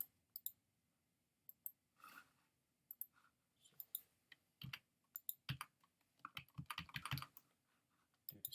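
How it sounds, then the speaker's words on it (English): Someone types a password on a computer keyboard, a quiet run of uneven key clicks in short bursts with pauses, close and alone, ending in a denser flurry of taps. "I'm going to type in a new root password on there."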